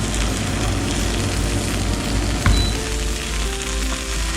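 Chicken fries in a pan with a loud, continuous close sizzle and crackle, and a brief clunk partway through.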